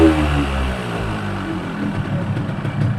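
A Yamaha RX King motorcycle engine runs close by, its low rumble lifting from idle into a steady rev that holds with a rough, throbbing tone.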